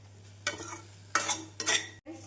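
A spatula stirs onions and masala spices in a pan for potato kurma: three distinct scraping strokes over a soft, low sizzle, close up and without voices.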